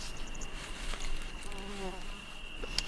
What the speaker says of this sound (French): Il y a pas mal de moustiques.